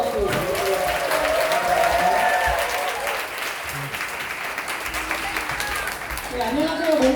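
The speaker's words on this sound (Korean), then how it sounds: "뜨거운 박수 부탁드립니다" Audience applause at a church young-adult mission report gathering, a steady wash of many hands clapping that swells and continues for several seconds, with voices faintly audible beneath it.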